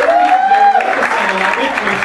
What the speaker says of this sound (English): Give yourselves a round of applause for coming out to support the company.